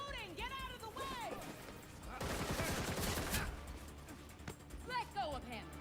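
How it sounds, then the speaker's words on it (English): Rapid gunfire from the Gotham Knights video game, a dense burst of shots in the middle of the clip, with character voices talking before and after. "I'm shooting."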